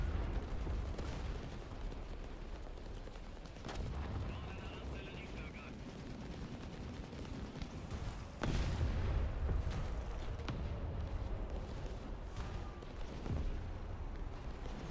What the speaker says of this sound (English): We're gonna be surviving some artillery right now.